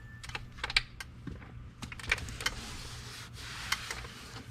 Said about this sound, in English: Pop off this trim cover right here.